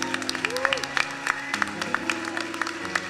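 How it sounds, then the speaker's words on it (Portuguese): A church congregation claps together, steady, dense clapping with a voice and some musical tones sounding over it. "Vamos aplaudir a vida da Carol, irmãos?"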